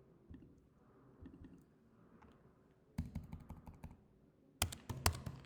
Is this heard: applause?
no